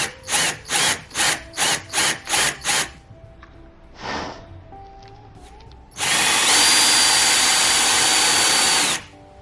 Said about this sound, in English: and then you are ready to drill